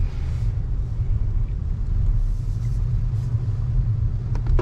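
A low, steady rumble of a Honda Civic e:HEV hybrid in motion heard from inside a quiet cabin, with faint road noise and a few small clicks near the end.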